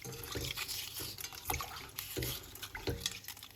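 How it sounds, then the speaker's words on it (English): Bay leaves are washed by hand in a bowl of water with a little baking soda, with quiet sloshing and splashing and a few soft rhythmic swishes, close up. "Alright, so we're going to wash them off."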